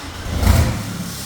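A Seat Leon 2.0 TDI diesel fitted with a straight-pipe exhaust gives a brief rev, a low rumbling engine note that swells and then eases back, recorded close by on a phone.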